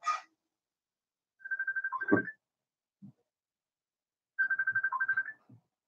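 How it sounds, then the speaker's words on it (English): A mobile phone ringtone plays two bursts of rapid electronic warbling tones with short pauses and a few faint clicks between. "There goes my phone. Could you get my phone and stop it, please?"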